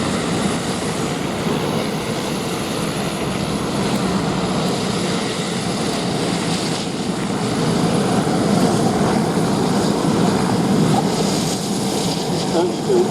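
A Tiger Moth biplane's engine drones continuously overhead during a Shuttleworth Fly Navy 2022 flying display, a steady rough propeller hum with an announcer talking over it.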